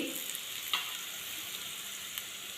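Split green chillies sautéing in a pan of hot oil for a tender jackfruit and dried prawn curry, a steady soft sizzle with faint crackles and one brief stir clink, close and alone.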